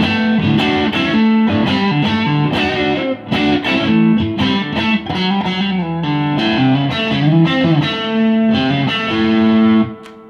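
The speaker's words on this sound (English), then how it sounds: "I'm going to switch on a little bit of heavier distortion." A Nash Wayfarer electric guitar on its humbucker pickup, played through heavier distortion: loud, close, crunchy chords and riffs with sharp picked attacks and sustained ringing notes.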